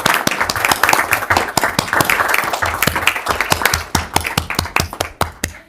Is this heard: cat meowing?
no